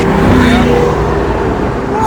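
A McLaren 720S twin-turbo V8 roars loud and close as the car accelerates, a continuous heavy engine drone filling the cabin with windows down.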